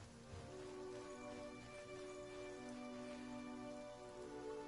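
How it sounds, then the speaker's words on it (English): Steady rain falling in the video game Pillars of Eternity, a continuous soft patter alone over a low tonal ambient music bed, with no speech. "You'd think these rains would be a boon for the crops."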